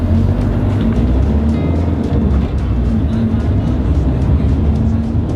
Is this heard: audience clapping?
no